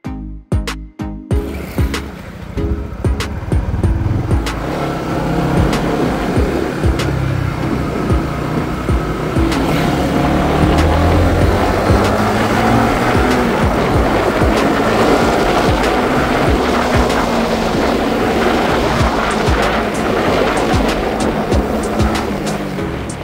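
A Honda Winner X motorcycle roars continuously with wind rush on a test ride, rising and falling in pitch as it revs, loud and close.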